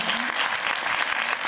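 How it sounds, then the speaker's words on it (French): A final round of applause from a theatre audience at a film Q&A: dense, steady clapping that fills the whole moment without pause. "je crois qu'on peut encore applaudir une dernière fois"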